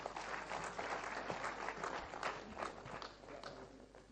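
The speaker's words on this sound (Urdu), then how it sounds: "تالیوں سے استقبال کیجیے انجم بارہ بنکوی" At a poetry mushaira in Patiala, an audience claps to welcome a poet, a moderately faint, uneven patter of applause with individual claps standing out, lasting a few seconds without talk.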